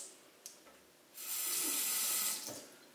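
A kitchen tap runs water into a water balloon, a steady hissing rush that starts after a short drip and tap sound, holds for over a second and then tapers, close and alone.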